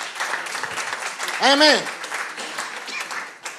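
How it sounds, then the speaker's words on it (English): Church congregation applauding during a sermon, a steady wash of clapping heard alongside a voice speaking over it. "Give God a clap offering."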